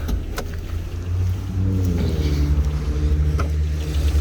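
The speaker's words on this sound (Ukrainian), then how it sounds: "Ось дивіться, мотор працює. Гарно, рівненько, ним не кидає, все нормально." A car engine idles evenly with the bonnet open, a loud low steady rumble with a faint higher tonal whine above it, running smoothly without any stumble.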